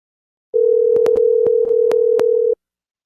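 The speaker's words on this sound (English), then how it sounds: "Oh, it's ringing. That's a good sign." A single steady electronic telephone ring tone sounds for about two seconds, loud and close, with a few faint clicks over it.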